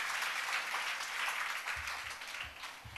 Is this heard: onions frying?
no